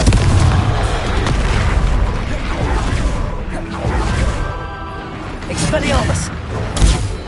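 Confringo blasting spell explosions in Hogwarts Legacy gameplay: repeated booming blasts and whooshes over a dense, continuous layer of combat noise, with a louder hit near the end.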